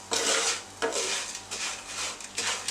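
Butter-coated roasted vermicelli stirred in a pan with a spoon, giving repeated scraping and clinking strokes in a steady rhythm, close and fairly loud, with no talking.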